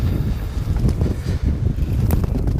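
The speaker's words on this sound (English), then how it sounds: "And this wind is going to mess my drift all up today." Gusty wind outdoors while fishing, buffeting the microphone with loud low rumbling and rushing that rises and dips, plus faint rustling on top.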